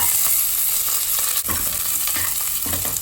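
Onion and curry leaves fry in a small amount of oil in a pressure cooker, giving a steady close sizzle with occasional stirring scrapes throughout.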